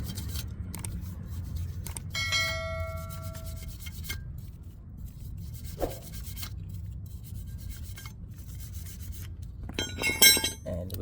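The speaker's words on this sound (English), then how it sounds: "Next, we're going to clean our brake caliper just using this brush." A brush scrubs a front brake caliper on a 2014 Ford Focus during a pad and rotor job, giving dry, scratchy rubbing strokes in uneven bursts with light metallic clinks, fairly close and without talk.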